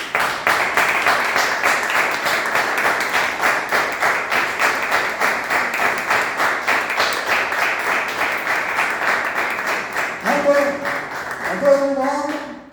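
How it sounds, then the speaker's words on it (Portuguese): A church congregation claps in a steady, rhythmic unison beat for several seconds, fairly close and loud, before a voice begins speaking near the end. "Vamos dar uma salva de palmas, Senhor."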